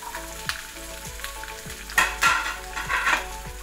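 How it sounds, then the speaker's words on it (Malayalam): Garlic and shallots fry in sesame oil, a steady close sizzle broken by repeated scraping stirs of a spoon against the pan, with a brief louder flare of crackle partway through. "വെളുത്തുള്ളി ആഡ് ചെയ്യുക ചുവന്നുള്ളി ആഡ് ചെയ്യുക"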